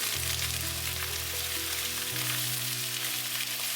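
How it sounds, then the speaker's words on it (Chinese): Beef pieces drop into amber, smoking caramelized sugar and a little oil for a tomato beef brisket stew, setting off a loud, steady, hissing sizzle that fills the whole clip up close, with a low hum running underneath and no talk. "等白糖变成琥珀色冒烟，再放入牛肉。"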